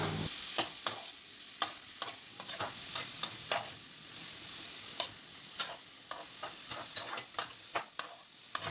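Banana stem poriyal being stirred in a pan, with a spatula scraping and tapping in irregular clicks over a soft, steady sizzle, close and fairly quiet with no voices.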